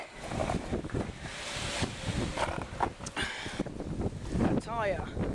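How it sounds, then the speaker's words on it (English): Strong wind buffeting a microphone outdoors, a loud rough roar that swells and gusts throughout while a person shouts over it. "look at the wind blow me away"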